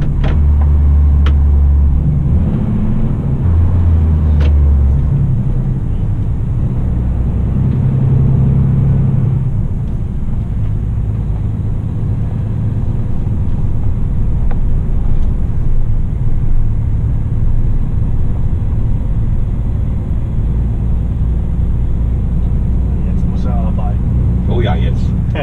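DAF XG+ truck engine under way, a loud continuous low diesel drone and rumble that deepens as throttle is added, filling the cab steadily throughout.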